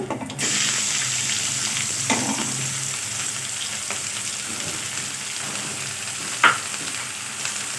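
Sliced onions and green chillies sizzle steadily in hot oil for an aloo samosa filling, a loud, close, continuous fry with occasional stirring scrapes and no talk.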